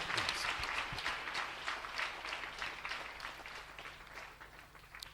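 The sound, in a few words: congregation applauding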